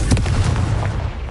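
The Confringo fire spell is cast in Hogwarts Legacy, giving a loud booming burst with a sharp opening crack and rumbling tail, heard alone without talk.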